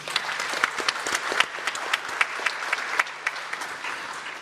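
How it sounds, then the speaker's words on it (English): An audience at a Bendigo community event on electrification applauds steadily. Many hands clap in a dense, even wash, with a few louder claps standing out throughout. "Big round of applause, Liz."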